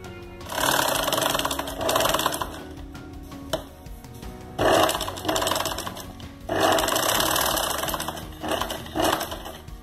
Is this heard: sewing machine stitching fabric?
yes